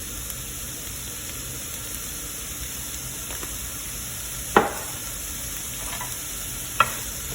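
Onions and cumin fry in a pan for a stir fry, giving a steady close hiss of sizzling oil with two sharp clicks of a utensil against the pan.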